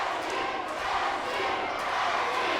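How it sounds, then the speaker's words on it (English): A wrestling crowd at an NWA-TNA pay-per-view event chants for Dusty Rhodes in his match against AJ Styles, a steady, dense wash of many voices filling the arena throughout. "The crowd again showing their support for the Dream with the Dusty chants"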